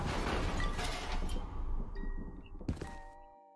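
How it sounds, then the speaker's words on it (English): A door locks in the horror video game File Destined: one heavy thunk with a metallic latch at the end, closing off a dense rumbling ambience. "The sound of a door locking behind you."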